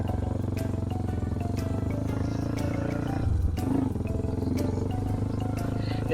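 A modified Kawasaki KLX dirt motorcycle idles with a steady, throaty, lumpy drone at close range, briefly dipping and surging in a short rev midway before settling back.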